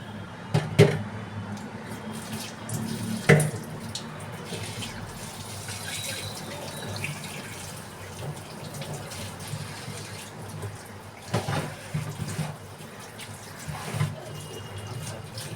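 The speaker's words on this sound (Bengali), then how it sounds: "চাল ধুয়ে নিলাম।" Rice being rinsed under a running tap in a home kitchen, with a steady wash of flowing water, a few sharper splashes and knocks, and soft clatter throughout.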